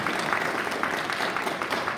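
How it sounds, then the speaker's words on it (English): An audience at a Rotary club meeting gives a round of applause, dense continuous clapping from many hands filling the room at a fairly close, even level. "Let's give them another round of applause."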